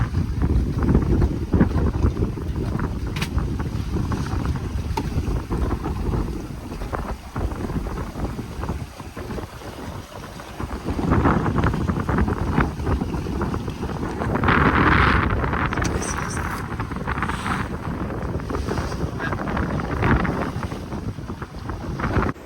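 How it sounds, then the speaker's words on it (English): Strong wind gusts buffet a sailboat at sea near Kos, a loud, continuous roaring rush with heavy rumbling microphone buffeting that swells and eases in waves over twenty seconds, with water and rigging noise mixed in and no talking. "Yep, here comes the wind."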